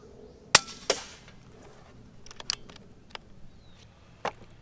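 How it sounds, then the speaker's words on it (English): A bullpup air rifle firing pellets: two sharp, close cracks in quick succession, then lighter clicks and taps of handling and cycling, and one more crisp shot near the end. "Shoots a whole 10 of pellets. Off of one fill."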